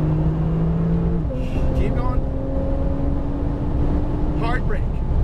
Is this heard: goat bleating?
no